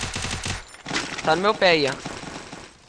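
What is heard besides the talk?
gunfire in a video game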